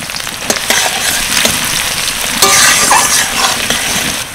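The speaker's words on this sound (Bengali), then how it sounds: "পেঁয়াজ হালকা করে ভেজে নিলাম" Chopped onion fries in hot oil with cumin, cardamom, cloves, cinnamon and bay leaf for chicken pulao, giving a loud, steady, close sizzle with a few scraping stirs and no voices.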